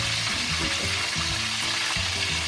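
Milkfish (bangus) steaks fry outdoors in hot oil, giving a steady, close sizzle and crackle throughout, with a few low clatters of a pan or utensil beneath it and no one talking.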